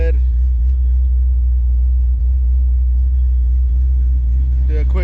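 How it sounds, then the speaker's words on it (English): A 1993 Ford Mustang Foxbody GT with a Microsquirt fuel injection setup idles close by, a deep, steady, even rumble that barely varies, with a faint voice and a brief rattle near the end. "The car is now driving, idling good."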